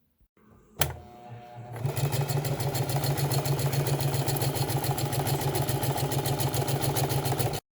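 A sewing machine stitches a welt pocket onto the front of a trench coat. After a short clunk and a pause it starts up and runs in a loud, steady, rapid mechanical chatter close by.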